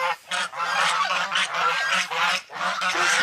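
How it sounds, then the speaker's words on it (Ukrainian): Domestic geese on a winter farmstead honk loudly and close, in repeated overlapping nasal calls with brief gaps between bursts. "Мої гусики."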